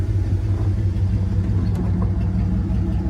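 A 1995 Dodge Ram 1500 work truck's V8 idling with its muffler cut off, a loud, close, steady low rumble that holds even throughout.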